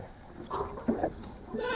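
Goats bleating at a home farm, a couple of short nasal calls close by over a quiet background.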